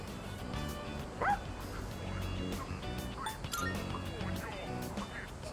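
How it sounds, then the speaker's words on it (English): Dog in the video game Persona 3 Reload giving high yips and excited whimpering barks during a chase, heard over game music and voices. "He accidentally stepped on a doggy's tail. And now he won't stop chasing him."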